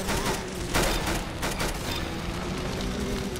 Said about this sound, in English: I'm just spamming my minigun.